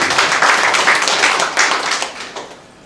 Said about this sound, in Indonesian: Tepuk tangan bagi Tuhan.